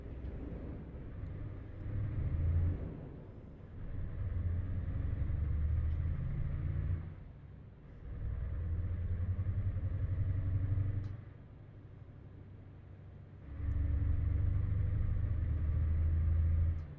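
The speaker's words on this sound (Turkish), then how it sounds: "Karşıdan sürekli araba geliyor." In the Euro Truck Simulator 2 driving game, oncoming cars pass a bus on a busy road, each arriving as a low rumbling swell that holds for a few seconds and fades. Three or four such passes come in succession, with no talk.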